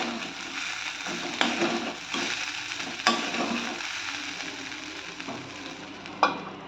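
Ivy gourd stir-fry cooking low in a pan, with a soft continuous sizzle and a few sharp spoon knocks and scrapes as it is stirred; no talking.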